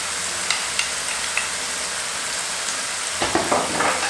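Keema frying with ginger garlic paste for stuffed potato pancakes sizzles steadily and loudly in the pan, with light spoon taps early on and a burst of stirring and scraping near the end.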